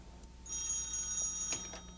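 Telephone bell ringing for a call, a faint, continuous high metallic ring starting after a short quiet moment and sustained to the end.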